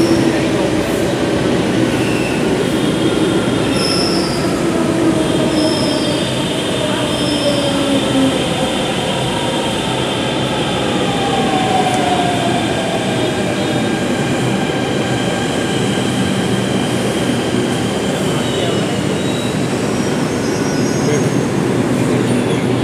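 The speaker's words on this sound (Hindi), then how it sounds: "चलो मेट्रो आ गई।" A Delhi metro train pulls into a station, its wheels squealing and rails rumbling in a loud, continuous roar, with high metallic screeches sliding over the steady din throughout.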